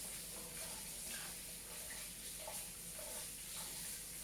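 Potatoes being washed under running water, a steady faint hiss of flowing water with soft uneven splashes and rubbing, fairly quiet, and no talk.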